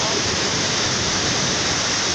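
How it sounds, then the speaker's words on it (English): Kirasia waterfalls at Marangu, set in a forested valley, give off a steady, loud, broadband rush of falling water that stays unbroken and close throughout. "unaweza ukaona maporomoko ya maji, Kirasia waterfalls"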